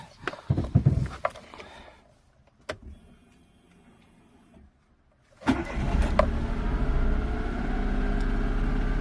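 A Daewoo Matiz small engine, 49,000 km on it, cranks, catches and starts, then settles into a steady, buzzy idle with a slightly uneven rev, close by.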